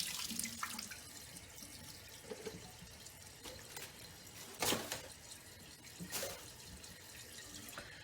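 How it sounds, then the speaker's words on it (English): Water runs steadily into a toilet tank through a newly installed ballcock fill valve, a continuous hiss with a few brief louder splashes and gurgles, fairly faint and with no talk. "We put the tube in and let it fill up with water."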